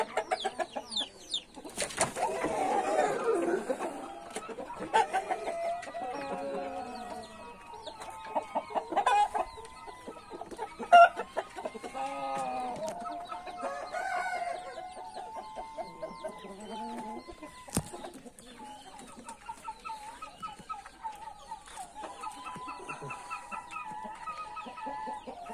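Roosters and hens in a farmyard cluck and call repeatedly for a long stretch. The varied bird voices are close and moderately loud, with occasional sharper calls breaking through.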